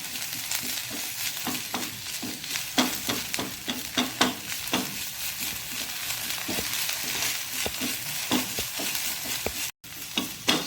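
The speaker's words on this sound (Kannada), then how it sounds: "ಎಲ್ಲವನ್ನು ಚೆನ್ನಾಗಿ ನಿಧಾನ ಉರಿಯಲ್ಲಿ ಫ್ರೈ ಮಾಡಿಕೊಳ್ತೇನೆ" Masala ingredients for a coastal-style gravy of black-eyed peas and drumstick leaves fry on a low flame, with a constant close sizzle and repeated scraping stirs of a spoon in the pan, and no talking.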